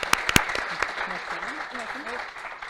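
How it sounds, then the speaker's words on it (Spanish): Audience applause at a children's and youth diabetes update conference, a brief burst of clapping with a few sharp claps at the start, then settling into softer, steady applause as a voice speaks over it. "un aplauso para ellas"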